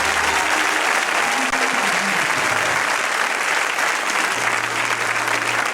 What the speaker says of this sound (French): Si tu me comprends, acclame, acclame,